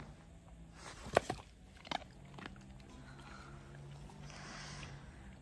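A pregnant Staffordshire bull terrier crunches a hard treat, with two sharp close bites close together followed by quieter rustling.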